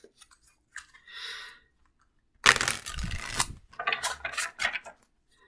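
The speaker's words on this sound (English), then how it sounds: "let me get another good shuffle in really quick" Tarot cards shuffled by hand in a few quick bursts, a brief riffle early then a loud crisp flurry of card-on-card rustling and snapping midway, followed by softer intermittent shuffles, close and alone without talk.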